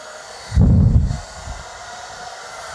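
Hair dryer with a thin nozzle on its low setting blowing fluid acrylic paint, a loud close rushing gust that lasts about half a second before dropping back to a faint steady hum.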